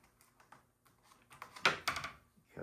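Adhesive tape peels off a model glider in a couple of short, crackling rips, quiet at first and then a louder, close stretch near the end.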